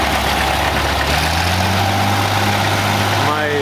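Engine of an 1850 front wheel assist tractor pulling a 5-bottom plow at a vintage farm show, a steady low rumble, loud and continuous, with a voice speaking over it.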